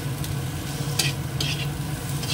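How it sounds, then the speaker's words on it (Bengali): Shrimp and chopped onion fry in a pan with a continuous close sizzle, broken by a few quick stirring scrapes. "এবার এটা একটু ভেজে নিই"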